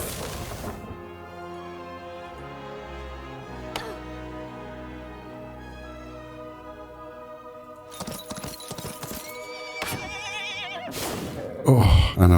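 Horse neigh in the fantasy strategy game Heroes of Might and Magic: Olden Era, a whinny early on against layered game music, followed later by sharp clattering battle effects and thuds.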